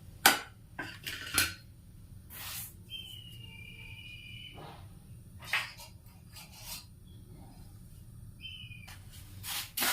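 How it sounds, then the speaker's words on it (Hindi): A utensil stirs and roasts wheat flour in a pan over medium heat for fenugreek, gond and moong dal laddoos, making intermittent dry scrapes and metallic clinks against the pan, with quiet gaps between strokes. "इस तरह से चलाते हुए भून लेंगे। तो गैस को मीडियम करते हुए इसे भून लीजिए।"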